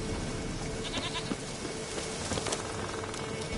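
A goat bleating in The Witcher 3 video game, its nasal cries rising faintly over a dense, hissing ambient background like rain, fairly distant and soft.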